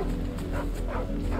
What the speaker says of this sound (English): Is that the dog?